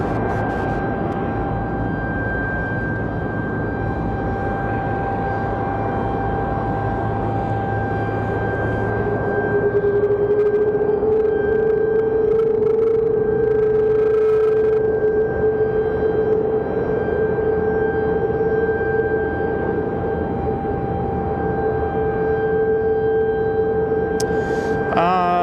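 Boeing 777 jet engines spooling up at Raleigh-Durham airport, heard from a distance as a rising whine that settles into a sustained tone over a steady hum from another aircraft's APU, with no talk.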